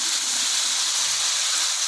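Milk poured into sizzling fried masala for an egg curry, giving a steady, loud hiss and sizzle that holds evenly throughout, with no talking.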